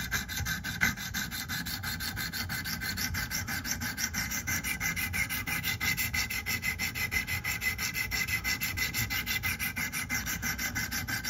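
A knife blade is sharpened on a sharpening stone with fast, even back-and-forth strokes, giving a continuous close gritty rasping rhythm with no voices.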